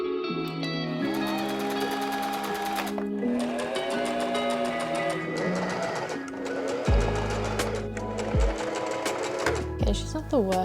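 A sewing machine stitches the lining of a handmade wedding dress made from a Vogue pattern. The close, whirring motor runs in stop-start bursts, and its speed rises and falls between runs.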